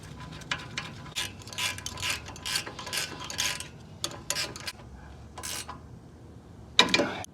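Quick ratchet clicking in repeated bursts as the original nuts are run back onto a 2015-or-later Ford F-150 strut during a leveling kit install, close and fairly loud, with a sharper metallic clank at the end.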